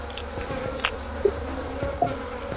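Flies buzz in a morgue in the Phasmophobia video game, a faint, steady insect drone over low room noise with a few brief higher chirps.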